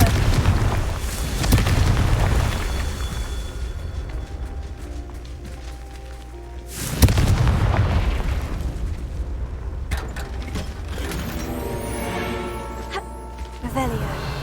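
The Confringo spell erupts in Hogwarts Legacy with deep booming blasts, two heavy impacts landing several seconds apart, each trailing rumble and debris, followed by a rising, sparkling magical shimmer.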